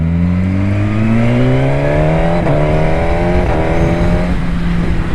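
Loud, close exhaust of a Suzuki GSX-R1000R superbike with the baffle removed, revving hard and climbing through gears in rising sweeps, with quick-shifter changes marked by brief breaks around the middle.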